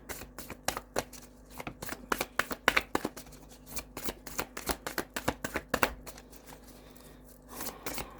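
Animal guide rune cards are shuffled by hand close up, a quick run of crisp riffling slaps and flicks in uneven rhythm, fairly quiet, with a short pause near the end and no voices.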